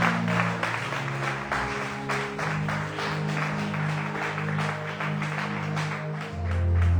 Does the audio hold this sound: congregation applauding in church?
yes